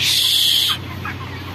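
Broiler chickens on a poultry farm cluck in a dense, steady flock chorus, loud and close for the first part before fading into softer scattered clucks.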